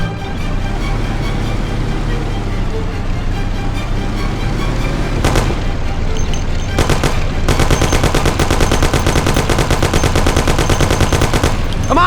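Sustained heavy automatic gunfire from a Mafia 1 shootout, dense rapid bursts over a constant engine-like rumble, loud and continuous, growing more intense in the second half.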